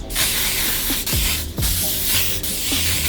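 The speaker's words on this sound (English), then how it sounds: "I'm gonna set it now by using a hairspray." Hairspray hisses from an aerosol can onto freshly cut, styled hair in a few steady bursts with brief pauses between, loud and close with no talking.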